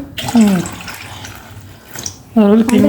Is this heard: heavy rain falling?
no